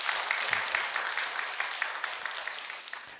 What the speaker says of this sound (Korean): 한번 크게 박수 한번 해주시고